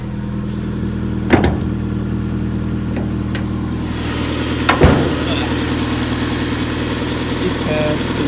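A car's 2-litre engine idles with a steady low hum, broken by a couple of sharp knocks or clunks nearby.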